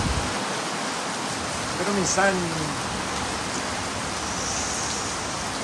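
Steady broadband rain falls throughout during a stormy morning, a constant wash of droplets with a short spoken phrase rising over it partway through.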